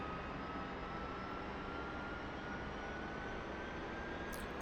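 A Bell UH-1 Huey's turbine engine winds up during startup, a dense, steady broadband roar with a faint rising whine running through it, loud and continuous, with a brief high-pitched chirp near the end.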